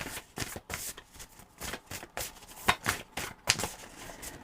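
Tarot cards being shuffled and drawn by hand, a quiet, close series of rapid riffling flutters and soft card slaps in an uneven rhythm, with no talking.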